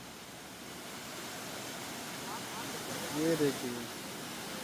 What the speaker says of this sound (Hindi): नेचुरल झरना बहता हुआ, एक नहीं चार झरना